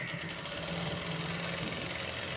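A sewing machine stitches a blouse with a steady, continuous motor whir and rapid needle vibration, close and moderately loud, with no talking.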